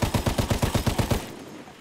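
Rapid automatic gunfire in the World War I shooter game Battlefield 1, about ten evenly spaced loud shots in a quick burst that stops abruptly and leaves a fading echo.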